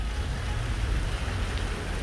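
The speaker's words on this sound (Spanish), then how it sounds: "pero tenemos lluvia." Steady rain falls on a street in the historic center of Guatemala City at midday, a dense continuous hiss and patter of drops on pavement with no voices.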